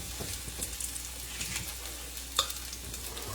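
Onions and garlic for creamy coconut shrimp pasta quietly sizzling in a pan on the stove, a soft steady crackle with small stirring clicks and one sharper tap.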